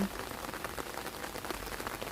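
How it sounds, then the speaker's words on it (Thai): Rain falls steadily over a Thai vegetable garden in Hungary, an even, close patter and hiss of drops throughout with nothing else heard. "ฝนตกฝนตก บรรยากาศฝนตก"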